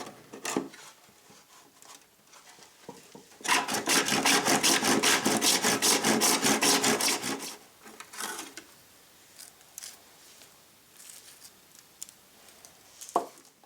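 A hand saw makes a straight cut through 1.5 inch PVC pipe, with a burst of rapid, even rasping strokes in the middle surrounded by scattered scrapes and handling knocks.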